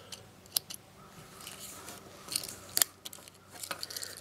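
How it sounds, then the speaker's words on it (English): Several quick metallic snips from the small scissors of a Victorinox Swiss Army Knife Climber, close up, irregularly spaced with faint handling clicks between them. "You also have the scissors"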